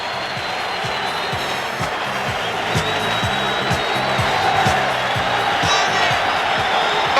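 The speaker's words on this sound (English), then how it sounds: "No question about the crowd reaction. It's a Muhammad Ali audience" A boxing arena crowd cheers for Muhammad Ali before his bout with Earnie Shavers, a dense, steady roar of voices with whoops, loud throughout, while a commentator talks over it.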